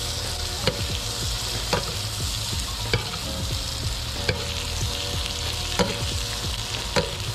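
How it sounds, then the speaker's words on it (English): Trout fillet bastes in foaming butter with rosemary in a pan cooked outdoors by a river, a continuous close sizzle broken by regular spoon scrapes and clicks against the pan, steady and unhurried, no voices. "See that butter just foaming up?"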